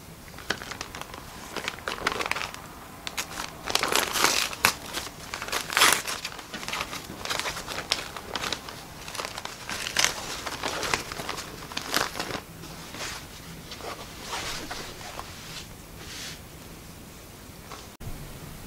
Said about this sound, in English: now I'm going to tear away my stabilizer.